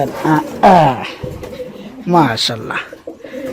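Bombay pigeons at a farm coo in short throaty bursts close by, mixed with people talking nearby.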